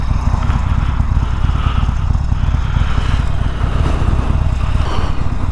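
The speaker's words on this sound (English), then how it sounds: "What I'm riding right now is a Harley Davidson XL 1200CX." Harley Davidson XL 1200CX roadster motorcycle riding on a road, its engine a steady, loud, rumbling drone heard up close with wind noise and no break.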